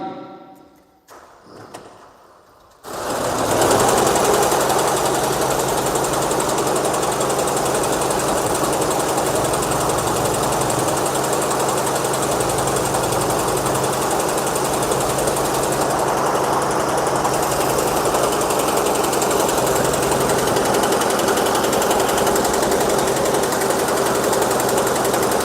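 A Zolytech quilting machine sewing mattress borders starts up after a brief quiet moment, then runs with a loud, dense, rapid mechanical chatter and thumping that holds steady and close for over twenty seconds.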